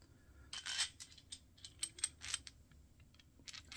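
A metal washer fitted onto the wheel bolt of a Screwfix wheelbarrow during assembly, giving a quick series of close, small metallic clinks and taps with quiet handling noise between them.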